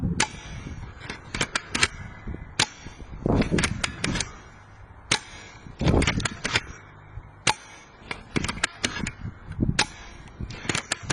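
Homemade pump-action syringe airsoft rifle being test fired: a run of sharp, snappy shots spaced irregularly, each burst joined by quick mechanical clacks of the pump, close and fairly loud.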